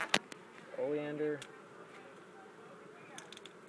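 A bee buzzes close by during a bee removal, one short humming pass of about half a second over a quiet background with faint clicks.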